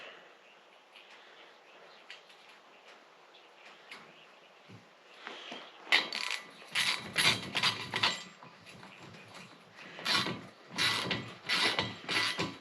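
A ratchet tightens a nylock nut holding a wheel onto a cart built from an electric wheelchair frame: faint fiddling at first, then a close run of quick ratcheting clicks in uneven bursts.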